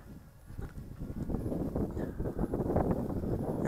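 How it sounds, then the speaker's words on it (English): Wind gusts buffet an outdoor microphone during an RC B2 flying wing flight, building from a soft rush into a steady, loud, low rumbling roar that fills the whole recording. "And here comes that wind."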